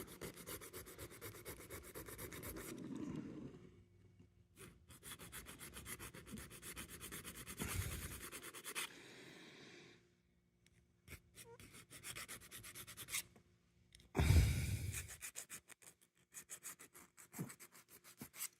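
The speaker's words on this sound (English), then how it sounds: "we got to work some filing out here." Small metal parts of a model kit are filed by hand in short rasping bursts separated by pauses, close and quiet with no talking.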